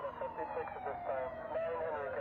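Ambulance siren wailing in steady rising and falling sweeps at a rescue scene after a train collision, heard at moderate distance and fairly muffled, without other prominent sounds.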